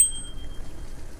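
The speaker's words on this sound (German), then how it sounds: "Natürlich klingel ich dann auch mal, weil so eine Kurve hier mit Gestrüpp und Gebüsch" Bicycle bell rung at a bend in a bushy countryside cycling path, a quick bright ting with a long sustained ringing tone that fades over about a second, heard alone over faint outdoor background.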